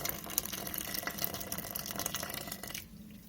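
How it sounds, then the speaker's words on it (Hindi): Boiled water pours steadily from a kettle in a continuous hissing stream for about three seconds, then stops abruptly, leaving quiet background. "हमने केटल में पानी बॉयल कर लिया, अब हम इसमें ये शामिल कर लेंगे।"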